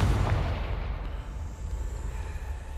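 Confringo explosion spell cast in the Hogwarts Legacy video game, a deep booming blast that hits at once and then rumbles and decays over a couple of seconds.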